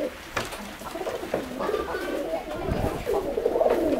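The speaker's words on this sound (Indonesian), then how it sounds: "Oke, teman-teman, ini untuk merpatinya ini ya." Racing pigeons kept for breeding coo repeatedly at close range, soft throaty calls layered over faint background noise and occasional other bird sounds.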